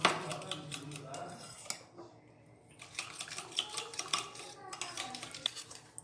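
A spoon mixing curd and powdered sugar in a bowl for an eggless cupcake batter, quick rhythmic scraping and clinking strokes close up, with a short pause midway.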